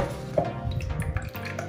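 Water from a heavily watered houseplant in a double pot drains into a bathroom washbasin, a soft continuous trickle with small drips and splashes, close by.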